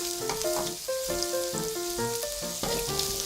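Red onion sizzles in a hot pan for bopis, a steady close frying hiss with faint stirring, heard with no voices over it.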